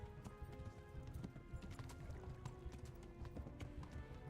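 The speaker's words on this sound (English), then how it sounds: "the horse is fucking freaking out" A horse in a video game runs in a panic, its hooves sounding as a fast, rapid clip-clop rhythm at moderate volume, with scattered clicks and no clear voices.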